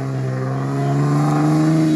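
A six-cylinder off-road car engine revs up, its steady harmonic growl rising in pitch and loudness, close by and continuous without any talking.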